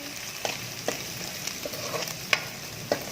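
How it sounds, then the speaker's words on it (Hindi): Spices frying in a pan for achari aloo tinday, a soft steady sizzle broken by evenly spaced scraping strokes of a spoon stirring, close and fairly quiet. "इसको 2 मिनट तक हिलाएं।"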